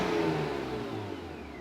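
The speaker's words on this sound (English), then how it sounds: "that is not too shabby of an idle." A BMW E36 328i engine idles smoothly and steadily up close, a low, even mechanical hum that eases slightly in level, with no talking.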